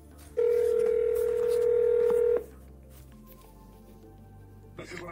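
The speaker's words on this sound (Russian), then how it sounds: "Я набираю телефоны." A steady telephone dial tone sounds clearly for about two seconds, then cuts off, leaving faint background and a brief rustle while phoning a car dealership about a GAZ Gazelle.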